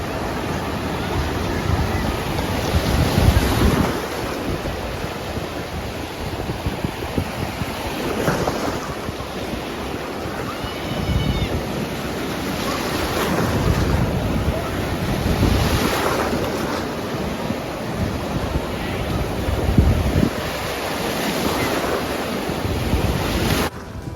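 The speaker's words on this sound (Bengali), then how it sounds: "সমুদ্রের ঢেউ আমাদের এমনিতেই ভালো লাগে" Atlantic Ocean waves roll and crash continuously at Virginia Beach, with steady wind buffeting the microphone and surging swells rising and falling throughout.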